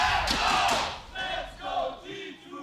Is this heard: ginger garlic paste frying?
no